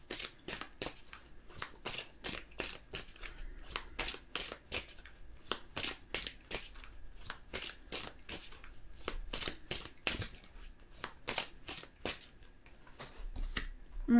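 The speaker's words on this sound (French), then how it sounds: "On va mélanger les cartes." Tarot cards are shuffled in quick repeated riffles and slaps, a fast and fairly even rhythm of crisp papery bursts, close and quiet, with no talking.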